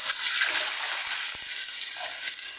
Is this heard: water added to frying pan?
yes